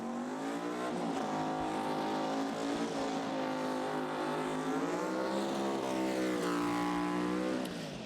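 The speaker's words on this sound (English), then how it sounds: "judging by that burnout" A Pro Mod drag racing car roars through a burnout at a British Drag Racing Championship round, its engine loud and sustained with rising and falling revs throughout.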